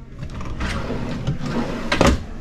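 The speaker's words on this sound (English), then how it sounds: "And there, you got three drawers here." A kitchen drawer in a new RV at an indoor RV show slides and soft-closes, giving a muted rolling rub and a gentle damped thud near the end amid faint room noise.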